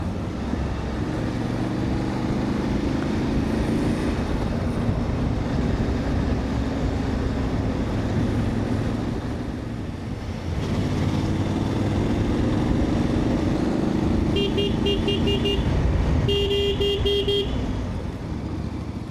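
A Voge 800 Rally motorcycle rides along with a steady engine drone and wind rush, its pitch swelling twice as it accelerates, and short tooting tones appear near the end.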